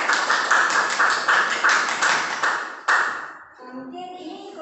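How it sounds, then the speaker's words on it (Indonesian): Classroom applause for a student group that has just finished presenting, a burst of many hands clapping loudly and steadily for several seconds before tapering off, with faint voices starting as it fades. "Beri aplaus untuk mereka."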